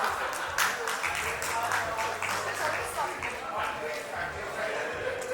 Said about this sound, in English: please give a big round of applause for our keynote speaker, Namit Sharma